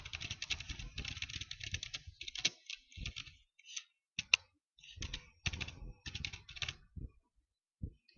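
Close keystrokes on a computer keyboard come in quick bursts separated by short silences as a name for a new folder is entered, crisp clicks with no talking.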